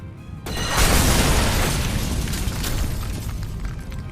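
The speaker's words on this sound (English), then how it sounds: "She destroyed the debris on the stairs with magic bullets as she ran." Magic bullets blast apart rubble on a staircase in the game Witch on the Holy Night, a sudden heavy boom that swells into a long, roaring, crumbling rumble lasting several seconds.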